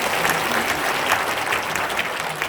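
Dense audience applause at a Korean political gathering, a steady loud wash of many hands clapping at once, even and sustained throughout with no break.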